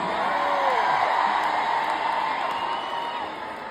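A Dublin arena crowd at a UB40 gig roars and cheers continuously, a dense wash of whoops and shouts filling the hall and slowly easing off.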